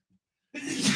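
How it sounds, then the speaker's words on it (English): A person sneezes once, close and loud, a single sharp burst after a brief faint sound and near silence, in a casual setting while breakfast food is being listed. "And a free sneeze. And a sneeze on your food."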